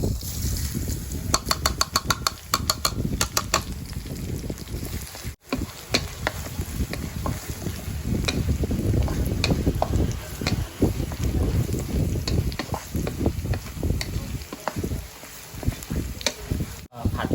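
Garlic and chili sizzle and crackle in a hot pan during stir-frying for a winged bean and egg dish, with scraping stirs and someone talking over the frying.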